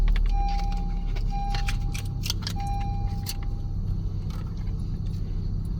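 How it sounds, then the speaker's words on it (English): Inside a 2016-2020 Honda HR-V, keys jangle at the ignition while an intermittent dashboard chime beeps over a steady low engine rumble, close and fairly loud. "insert your working key into the ignition and start the car"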